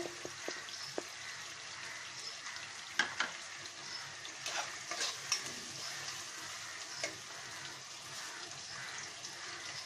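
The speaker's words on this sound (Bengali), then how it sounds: "আমরা পেঁয়াজটা ভেজে নেব ভালো করে" Onions frying in a pan for a beef bhuna give a quiet, steady sizzle, broken by a few sharper clicks and scrapes of a spoon stirring.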